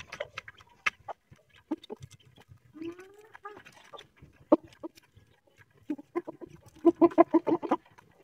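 King Cheena Aseel chickens pecking at grain, giving scattered soft clucks and short calls with light tapping, moderately close, ending in a louder run of rhythmic clucking.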